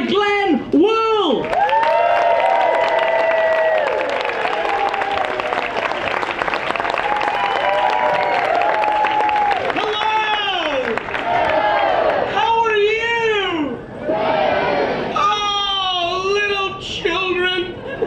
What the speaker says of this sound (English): start your applause and please welcome to the stage the hilarious Mr. Glenn Wool!